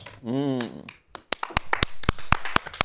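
Several people clap by hand in a short, uneven burst of sharp, close claps following a brief spoken phrase, with a voice talking over the clapping.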